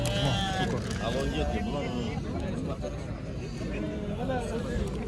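Lambs bleat again and again amid a busy, noisy crowd at a livestock market in Kara-Balta, with people talking close by throughout.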